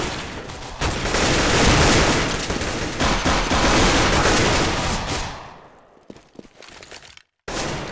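Dense, loud gunfire from a CS:GO professional match, NiP versus Fnatic, fills the first five seconds as a continuous burst of shots, then thins out into a few scattered cracks before the sound cuts out briefly.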